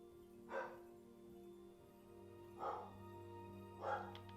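A dog barks three times, spaced far apart, muffled and fairly distant under a steady low electronic hum, with no talk.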